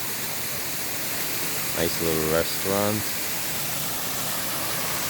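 A waterfall flows in Veteran's Park in Royal Palm Beach, Florida, making a steady, even rushing hiss throughout. Someone speaks briefly over it.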